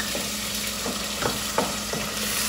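Onions and black pepper sizzle in a pan, a continuous close frying hiss with a few soft stirring scrapes spaced across it, no voices.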